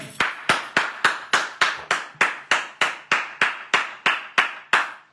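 A church congregation claps in unison after a call to acclaim the Lord: about fifteen sharp, evenly spaced hand claps in a steady rhythm, loud and close, with no talk over them.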